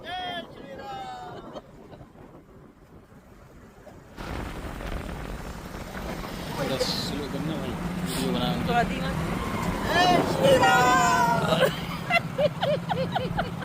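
A motorbike taxi rides through Allahabad during the Mahakumbh, its engine droning beneath heavy wind rush that grows louder partway through, with voices speaking intermittently over the ride.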